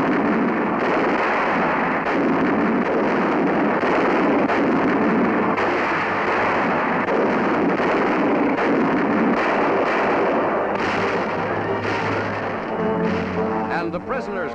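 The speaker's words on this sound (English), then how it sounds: "This is the start of one of the great barrages." World War II artillery barrage in northern France, a continuous dense rumble of heavy guns firing with overlapping booms, with a narrator's voice speaking over it throughout.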